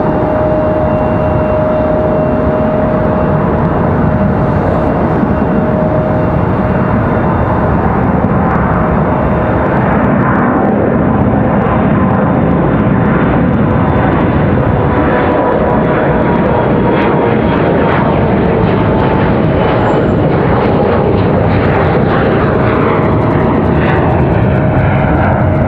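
A Republic Airways jet takes off from Raleigh-Durham International bound for New York JFK. Its loud, close, continuous engine roar fills the whole stretch, and its rumble and whine slowly shift as it climbs away. No speech is heard.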